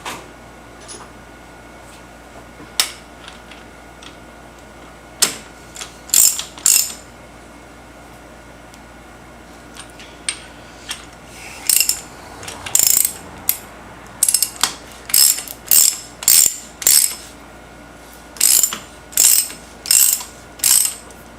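A socket wrench fitted with a 27 socket ratchets on a motorcycle scrambler build, first as scattered single clicks, then as regular bursts of sharp, close ratcheting that repeat rhythmically toward the end.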